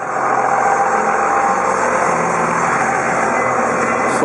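A 1999 Dodge Ram 2500 SLT Laramie with a Cummins diesel engine runs steadily, a loud, even rumbling drone heard close up without a break.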